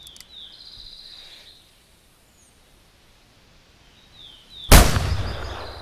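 In The Hunter video game, a .44 revolver fires once at a wapiti: a single loud, close blast near the end with a rolling tail, after a quiet stretch of soft outdoor ambience with insects.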